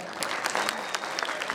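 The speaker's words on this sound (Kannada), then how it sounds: "ಜೋರ್ ಚಪ್ಪಾಳೆ" Loud applause erupts from an audience at a film teaser release event, dense clapping with sharp individual claps standing out, close and continuous for a moment.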